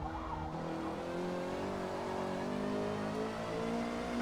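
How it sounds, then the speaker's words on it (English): A Honda Civic Type-R touring car's engine howls at full throttle in Forza Motorsport at Daytona, a loud, steady, rising drone held continuously with no pauses or voices. "And here it's going full throttle."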